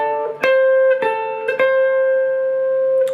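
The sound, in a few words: electric guitar playing a lick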